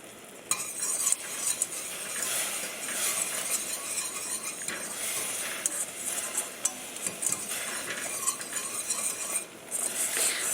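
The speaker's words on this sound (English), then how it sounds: "Just going to stir it occasionally as it boils" Chocolate no-bake cookie mixture boiling in a pot on the stove, a spoon scraping and stirring through it over a steady bubbling sizzle, with occasional clinks of utensil on metal.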